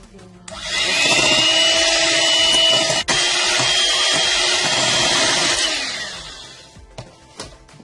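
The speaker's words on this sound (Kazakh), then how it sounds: "Енді жұмыртқамыздың сары уызын біртіндеп қосып, тағы да араластыра түсеміз." Electric hand mixer beating egg yolks into sponge cake batter, a loud steady whirring motor running for about six seconds with a brief dip midway, then switching off.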